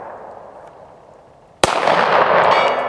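After a stretch of quiet outdoor ambience, one loud 9 mm pistol shot cracks out at a 200-yard range, its sharp report trailing into a broad, lingering reverberation across the open range.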